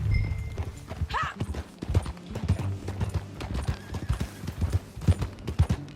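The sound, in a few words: horse hooves in video game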